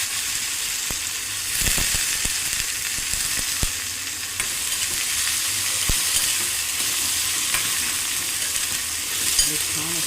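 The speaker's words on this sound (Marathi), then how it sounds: "त्याच्यात मी आता कारले टाकते" Bitter gourd is dropped into a sizzling tempering in a pan, giving a steady hissing fry punctuated by a few sharp clacks and taps of utensils.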